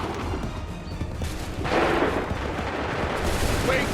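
Gunfire in the Assassin's Creed III video game, a dense crackle of shots that swells into a louder volley partway through, with distant voices underneath.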